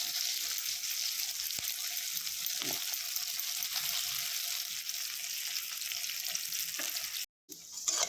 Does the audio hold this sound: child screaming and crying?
no